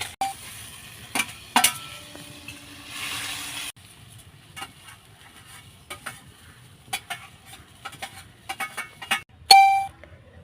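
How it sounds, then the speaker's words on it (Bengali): Mourala fish frying in a pan over a wood-fired stove, a steady soft sizzle broken by sharp scraping stirs and clinks of the spatula against the metal, with no talk. "এবার এই মোরলা মাছগুলো ভাজছি"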